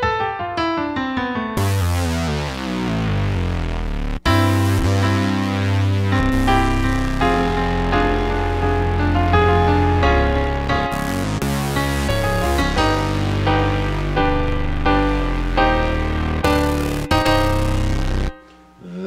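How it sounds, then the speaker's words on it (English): Keyboard split played alone: a Thor synth voice on the left-hand side and a Steinway piano sound on the right, sustained chords and melodic lines ringing together, loud and full, with brief pauses between phrases. "the left-hand side of the piano doing the Thor and the right-hand side using the actual piano sound"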